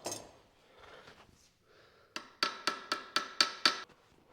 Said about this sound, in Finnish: Pikku vasarattu.